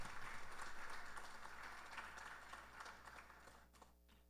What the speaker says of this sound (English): Please welcome her with a round of applause, Mrs. Kiran Ramuta.